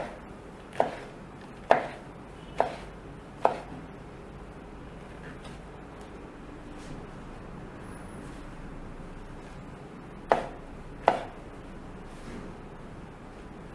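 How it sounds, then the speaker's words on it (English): Oyster mushrooms chopped into big juliennes on a board, sharp knife chops in two bursts of four and two, close and distinct over a quiet background hum. "We cut them in big juliennes."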